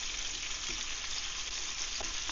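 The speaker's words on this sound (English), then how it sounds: "So you want to make sure this meat's cooked, it's browning nicely." Beef chorizo and tomatoes fry in a pan with a steady, close sizzle and crackle, alongside faint stirring sounds and no speech.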